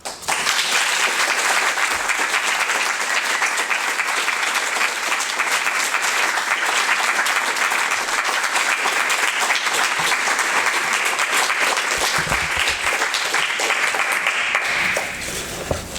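An audience claps steadily and densely for about fifteen seconds to welcome poet Alice Notley at a reading, a full even wash of applause that fades out at the end.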